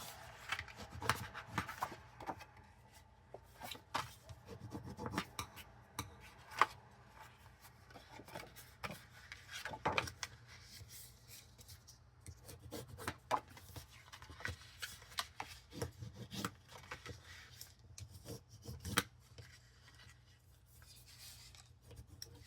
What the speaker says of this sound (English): Now we're going to fold and burnish all of our score lines.